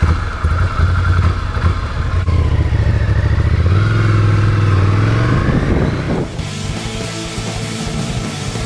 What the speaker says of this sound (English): We've just gone out on the Ducati Scrambler